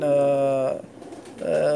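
Pigeons in a loft give two clear, close coos with a pause of near silence between them.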